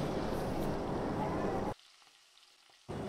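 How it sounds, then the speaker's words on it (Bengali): Fresh fish frying in hot oil, a loud dense sizzle that cuts out abruptly to near silence partway through, then returns at the end. "তেল গরম করে সব মাছগুলোকে ভেজে নিচ্ছে।"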